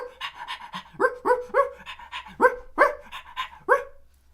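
A dog pants rapidly and lets out short, yelping barks in a steady rhythmic series, close and fairly loud, with no speech over it.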